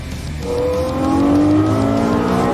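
Ferrari 328 GTS accelerating hard on the road in Singapore, its engine note climbing steadily in pitch as revs build, loud and close from inside the car.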